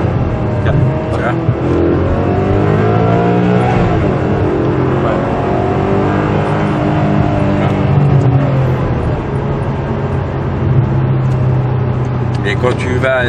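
Maserati GranSport engine rising and falling in pitch as it revs on downshifts while driving, loud and close inside the cabin, with people talking over it throughout.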